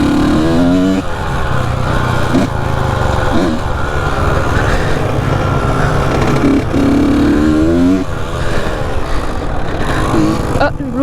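A Kawasaki KX motocross dirt bike engine revving hard and continuously nearby, pitch rising and falling with throttle, while a rider talks in French over it.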